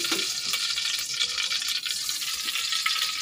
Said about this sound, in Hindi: अब हम इसको तड़का छोड़ेंगे।